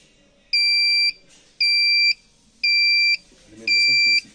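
The alarm buzzer on a Bosch FPA-1200 fire alarm panel gives four loud, evenly spaced electronic beeps of about half a second each, close and piercing, with faint voices between them.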